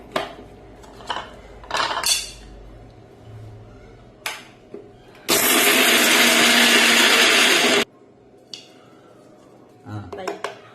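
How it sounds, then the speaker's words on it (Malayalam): A mixer grinder jar whirs loudly and steadily for a few seconds, grinding a roasted laddu mixture, preceded and followed by clinks of the jar and someone talking. "ഇനി ഇതാ ജാറിലിട്ട് പൊടിക്കാൻ പോവാണ് ഒന്നിങ്ങനെ ചെറുതായിട്ട് രണ്ട് പ്രാവശ്യം ഇങ്ങനെ കറക്കിയാൽ മതി"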